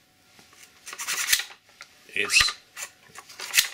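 Upper sand tool worked back and forth inside an FGC-6 series rifle upper, giving a few close, raspy scraping strokes in bursts with short pauses, while someone speaks over it.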